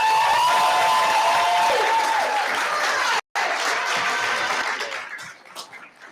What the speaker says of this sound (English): Mr. Mark, big applause for him.